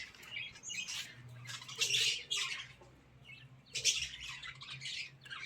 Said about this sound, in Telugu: రకరకాలే ఉన్నాయి పక్షులు లోపల.